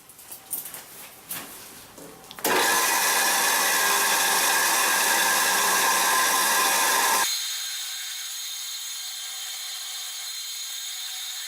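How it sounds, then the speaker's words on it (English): A power grinder cuts through the wire of a muskrat colony trap, roaring loud and steady for several seconds before dropping to a thinner, lighter whine as it keeps running alone. "I'm going to take these and grind these off so that we can pull"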